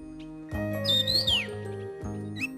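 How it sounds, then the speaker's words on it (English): Birds sing in a Taiwan mountain forest, bright whistled phrases with rising and falling sweeps over a steady background drone, clear and fairly near without any voices. "The animals you will see most of are the musical spirits of the forest, namely birds."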